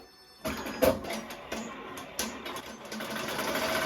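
Melco embroidery machine stitching a logo onto a laptop bag, a steady mechanical whir with rhythmic stitching clatter and a few louder clunks, heard close up with no talking.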